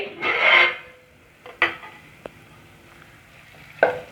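Spatula scraping and stirring vermicelli upma with green peas in a pan, heard as a few short, close scrapes and knocks against the metal with quiet gaps between them.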